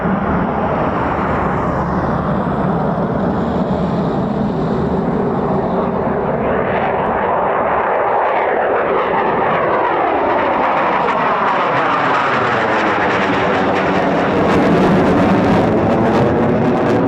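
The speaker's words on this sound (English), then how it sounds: "that C-47 is going to look mint in that sky" A Douglas C-47 propeller aircraft passes overhead at RAF Coningsby, its loud, continuous engine drone rising and falling in pitch as it moves across the sky, with no talk.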